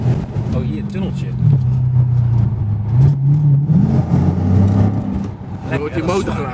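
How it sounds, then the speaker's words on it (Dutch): A supercharged Dodge SRT engine drones heavily and steadily as the car accelerates, with a loud low rumble throughout and voices talking over it inside the car. "Je hoort die motorgeluid en het zware geluid"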